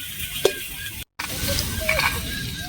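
Boiled new potatoes with their skins on are stirred in a hot pan, giving a steady sizzle with scraping spatula strokes and a brief gap of silence midway.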